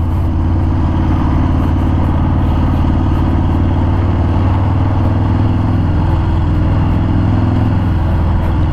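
A black 2018 Harley-Davidson Fat Bob with ABS being ridden, its big engine giving a loud, continuous low rumble with steady throttle and no talk over it.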